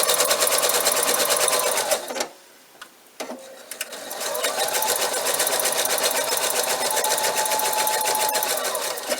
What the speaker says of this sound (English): This sewing machine is really great for letting me move my fabric around so I can turn it.